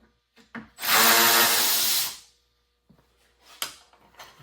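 Power drill running in reverse to back screws out of Volkswagen Mk7.5 GTI car parts: one loud, steady whir of about a second, with light clicks and handling noises before and after.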